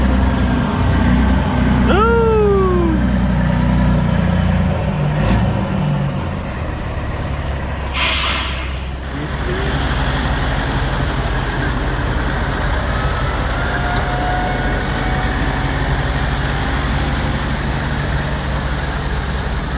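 A Kenworth W900L truck engine rumbles loudly and steadily, with a sharp hiss of air release partway through and a brief voice speaking over it.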